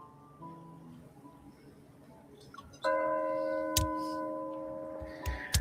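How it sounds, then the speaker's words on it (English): Celebratory bells ring out in a crowded setting, a sustained tolling that starts abruptly and swells loud, with a few clanging strikes over it. "Celebratory bells drown out his words."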